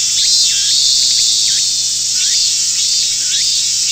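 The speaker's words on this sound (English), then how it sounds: "The different silence broken only by the cries of the cicadas." Cicadas drone loudly and steadily in a game scene, a dense high shrill with repeating rising and falling chirps layered over a constant hum, with no voices.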